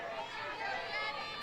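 Softball crowd at an NCAA championship game between Florida and Florida Atlantic murmuring and groaning in displeasure over a strike call, a steady broad wash of crowd noise throughout.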